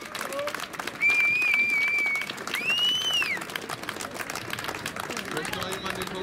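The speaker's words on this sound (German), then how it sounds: "Dafür einen kräftigen Applaus." Audience applause at a political rally in Hannover, Germany: steady crowd clapping throughout, with a few sharp whistles and cheers rising above it.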